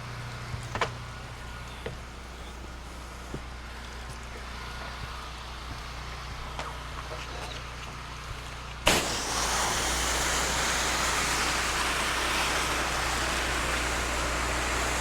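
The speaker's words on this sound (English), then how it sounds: "just wash this little section in the middle here with a wide tip nozzle" A pressure washer with a wide tip nozzle bursts on abruptly partway through and sprays house siding in a steady, loud broadband hiss. Before it starts there is only a low idling engine hum with a few faint knocks.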